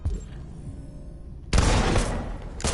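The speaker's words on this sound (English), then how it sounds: "Simon's been shot!" Gunfire bursts out suddenly in the video game Detroit Become Human, a loud, sustained fusillade of booming shots following a quieter stretch.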